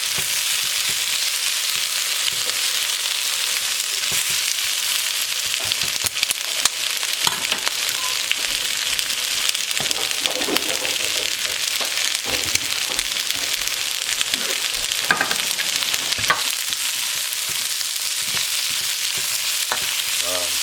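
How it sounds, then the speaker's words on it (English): Steady, bright sizzling of shrimp and scallops with jalapeno frying in a hot pan, with occasional scrapes and clatters as it is stirred. "Get the sizzling up again."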